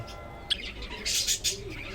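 Albino budgerigars chirp and squawk in a breeding cage, a few short bright calls close by around the middle of a quiet stretch with no talking.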